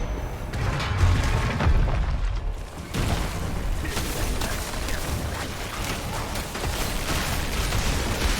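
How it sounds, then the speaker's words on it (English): A trap explosion in Diablo 4 booms amid a dense, continuous wash of loud game effects lasting several seconds, with no speech over it. "it's still enough to escape the trap explosion"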